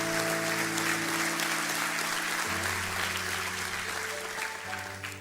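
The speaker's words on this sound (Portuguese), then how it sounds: "Dê o melhor aplauso que você pode dar ao Senhor." A church congregation claps together during an evening service, a steady wash of applause under sustained organ or keyboard chords that shift partway through.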